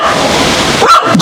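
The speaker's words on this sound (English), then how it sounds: "Dog angry and miserable." An angry dog in the Jamaican countryside lets out a single loud, close bark with a whimpering edge near the end of a brief moment.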